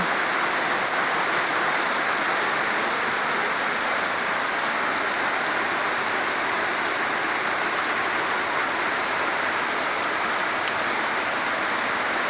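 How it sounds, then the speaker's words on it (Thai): Rain falls steadily on a rice field in Sakon Nakhon, Thailand, a dense, even hiss of drops without a break, close and loud throughout. "บรรยากาศ ฝนตก"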